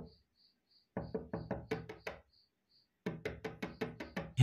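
Knocking on a door at night in a Tamil short film: two close bursts of rapid, firm raps, each several knocks long, separated by silence, over a faint steady high hum.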